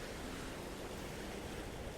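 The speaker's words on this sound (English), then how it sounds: "I don't know if you guys can hear the waves, but, it's so peaceful." Ocean waves wash continuously in a steady, soft rush of surf, with a touch of wind noise and no voices.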